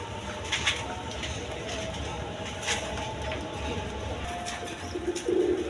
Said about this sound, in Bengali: এখানে এক জোড়া গিরিবাস কবুতর আছে, হাই ফ্লাইং কবুতর